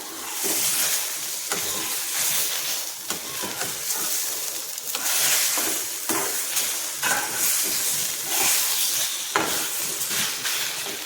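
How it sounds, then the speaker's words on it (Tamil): Andhra-style egg bhurji fries in a hot pan while it is stirred continuously, giving a steady, loud sizzle with the scrape of a spoon running through it. "அப்படியே கிண்டி விட்டுக்கிட்டே இருக்கணும் இல்லைன்னா பிடிச்சிரும்"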